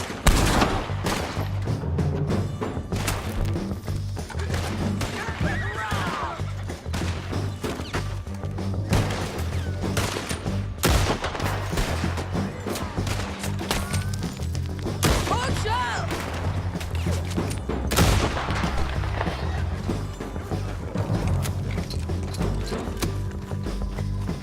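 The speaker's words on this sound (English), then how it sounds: "Who's shooting at me" Gunfire in the video game Red Dead Redemption 2, repeated shots and bursts scattered across a dense, steady game soundscape with music and effects running throughout, and a voice speaking over parts of it.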